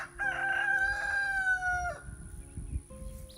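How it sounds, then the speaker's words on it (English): A rooster crows once, a long drawn-out call that fades into low background rustling and movement. "Rooster."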